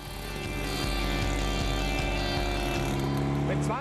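A DKW Super Sport 600 two-stroke motorcycle engine runs loudly and steadily with a rough, buzzing drone and repeating low pulses, close by, with a voice talking over it.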